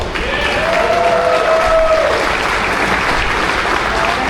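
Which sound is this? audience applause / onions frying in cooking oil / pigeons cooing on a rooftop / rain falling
audience applause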